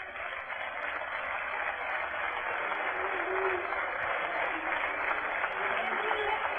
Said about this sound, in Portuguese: que ele receba um demorado aplauso do seu povo